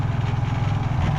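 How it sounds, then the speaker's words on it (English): A quiet generator idling nearby, a steady low rhythmic engine throb heard alone for about a second. "How quiet that is. That's so nice to have quiet generators."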